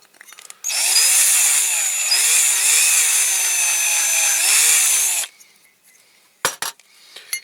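A drill bit bores into the die-cast metal body of a Dinky Toys RAF Pressure Refueller No.642, giving a loud, steady whining grind for about five seconds that wavers in pitch, then stops, followed by a few brief clicks and knocks.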